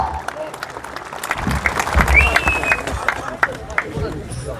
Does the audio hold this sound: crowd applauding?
yes